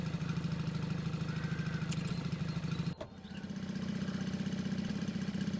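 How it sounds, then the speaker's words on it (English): A vehicle engine in the video game Cataclysm: The Last Generation idles with a steady rumbling drone, then briefly dips as it shifts down a gear and settles back into a lower, continuing hum. "It's making the correct engine noise for shifting down too."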